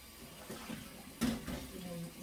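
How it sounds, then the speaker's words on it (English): Hot water running from a kitchen tap, a soft, steady splashing stream with a brief louder gush partway through, heard close and alone. "Oh, that's hot water."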